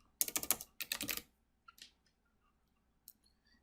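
Quick bursts of typing on a computer keyboard, two dense clusters of close key clicks followed by a few isolated taps with quiet gaps between them.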